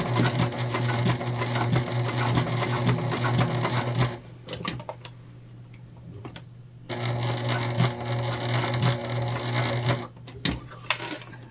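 A sewing machine stitches fabric for a small Christmas tree pouch, a steady rapid whirring hum with clicking, pausing midway for a few seconds of light handling noises, then resuming at the same pace.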